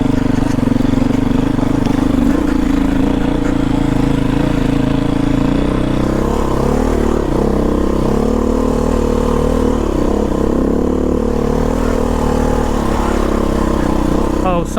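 A Beta 500RR-S dirt bike ridden on Pierson Park Road gives a loud, steady engine drone close to the microphone, with pitch rising and falling as the throttle shifts and the rider speaking over it.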